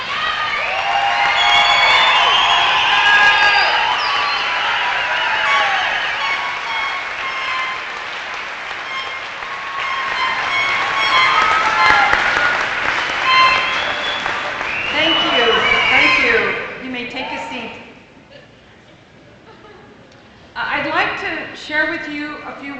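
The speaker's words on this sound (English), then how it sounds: "And can we give them a big round of applause?" A crowd at a 2017 summer graduation ceremony for an alternative high school program applauds and cheers the graduates loudly for about fifteen seconds. Whoops ring out over the clapping, which then fades away as voices speak.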